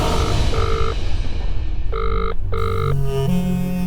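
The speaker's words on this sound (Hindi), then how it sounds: "ये फोन क्यों नहीं उठा रहे हैं?" A telephone rings in repeated electronic bursts, loud and close, over a busy background rumble, with a pause between ring pairs.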